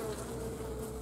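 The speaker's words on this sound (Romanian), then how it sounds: "ăsta care e mai populat are mai multă albină, circulă mai multă albină" Honeybees swarm busily around a populated hive, a dense continuous buzzing hum at close range with no talk.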